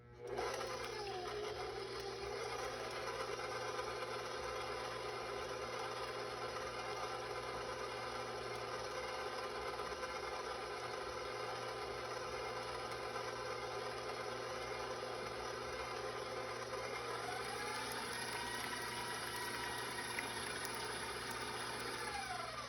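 Stand mixer whirring steadily as it mixes chocolate pumpkin muffin batter, a continuous motor hum with faint rhythmic beater scraping, moderately quiet and uninterrupted, no talking.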